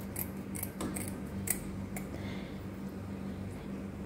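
Scissors snip the spines and fins off a pearl spot fish, giving a series of quick, close, crisp cuts at an irregular rhythm over a low background hum.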